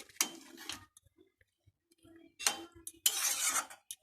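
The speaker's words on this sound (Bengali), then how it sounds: "এই যে চিকেনটা কষানো হচ্ছে" Chicken sautéing in a pan, with a few clusters of scraping and sizzling bursts from stirring separated by quiet gaps, fairly faint and without speech.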